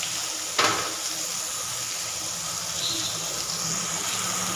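Paneer pieces sizzle on a tawa with a steady, bright hiss, opened by a single sharp tap of a utensil, then a continuous even crackle close by with no voices.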